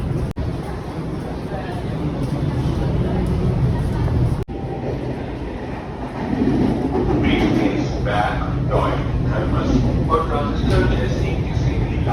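A Delhi Metro train rolls along with a continuous rumble and rail noise heard from inside the car, and a voice speaks partway through over the running train.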